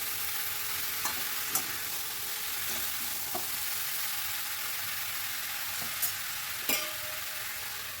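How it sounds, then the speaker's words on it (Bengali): Tomato, peas and green chillies fry in a wok with a steady dense sizzle, broken by a few soft clicks and scrapes as the mix is stirred. "দিয়ে আবারও সব কিছু ভালো করে মিশিয়ে নিচ্ছি।"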